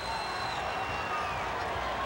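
A capacity crowd at a World Wrestling Federation event keeps up a dense, continuous roar of cheering and chatter that fills the arena at an even level.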